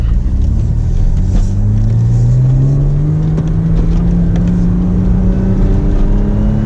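A Toyota MR2 with a V6 engine accelerates on a mountain road run, its steady droning note climbing gradually in pitch, loud and close throughout with no talking.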